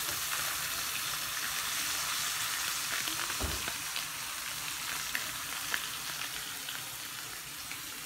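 Curry salmon fillets seasoned with turmeric fry in a hot pan, giving a steady, dense sizzle that holds at an even level throughout, with one brief low bump partway through as the fish is moved, and no speech.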